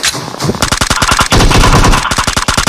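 Video game MP submachine gun firing in rapid, loud automatic bursts, a fast regular stream of cracking shots with a short pause in the middle, up front and dominant.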